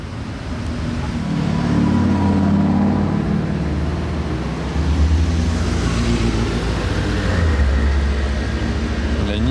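A BMW M5 CS engine and exhaust rumble nearby with a deep, steady, loud drone that swells slightly, captured outdoors while cars are being spotted.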